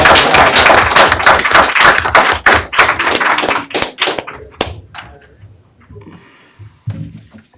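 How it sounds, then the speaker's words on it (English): Applause from the audience at a city council meeting, a dense patter of many hands clapping for about four seconds before thinning out into scattered claps and quiet room noise. "one more round of applause"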